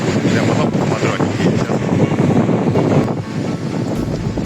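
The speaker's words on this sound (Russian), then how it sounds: "И ветер, и... Тут, наверное, зашкаливает." Strong wind gusts across the Baltic coast at Zelenogradsk, roaring in a dense, steady rush of microphone buffeting with surf mixed in.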